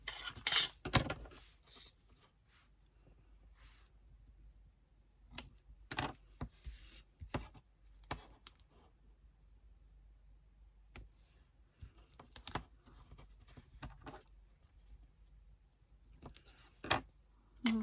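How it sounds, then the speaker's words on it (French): Double-sided tape handled on paper pockets for a scrapbooking mini album, heard as sparse, quiet clicks, peels and rustles with long pauses between them in a still room. "je vais venir le mettre du scotch double face sur mes 4 côtés"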